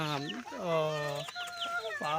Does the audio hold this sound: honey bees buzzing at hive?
no